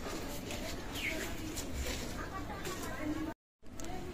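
Chinese teddy pigeons in a loft coo softly amid a dense, constant din of other birds and background noise.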